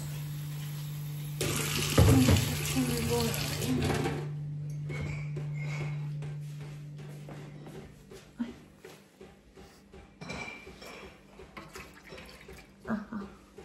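Water pours from a tap in a home kitchen, a loud gushing stream in the opening seconds over a low hum, followed by quieter drips, clinks and small handling knocks.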